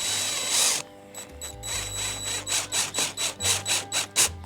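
A sharp bit drills through a clamped Herd bumper backed by chipboard, opening with a grinding whine, then settling into a rhythmic series of about a dozen pulsing bursts, loud and close with no voices.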